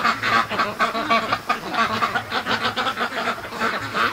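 A flock of free-range ducks rushing through an opened gate toward food, quacking and honking continuously in a busy chorus of overlapping calls, close and lively.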